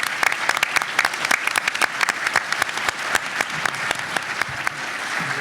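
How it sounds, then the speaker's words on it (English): Crowd at a business economic forecast event gives a round of applause, crisp close individual claps over a steady wash of clapping that continues without a break. "Let's give him one more big round of applause."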